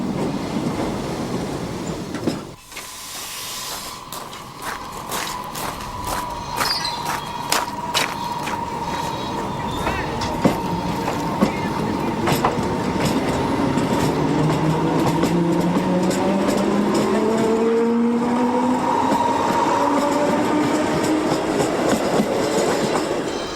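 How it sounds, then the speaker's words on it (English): A Portuguese Railways electric multiple unit built in the early 1960s runs on a regional line between Lisbon and Entroncamento, with rhythmic clickety-clack over rail joints, squealing wheels and a steady rumble building as it passes. "Electric multiple units provide a regional service linking the intermediate local stations between Lisbon and Entroncamento."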